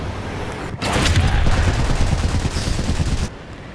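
Gunfire from the tank game War Thunder strikes a Type 16 (P) wheeled tank, a dense burst of rapid impacts lasting a couple of seconds over a steady engine rumble, then abruptly stopping.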